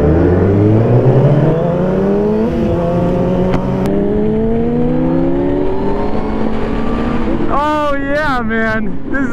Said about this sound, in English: That's why I was revving.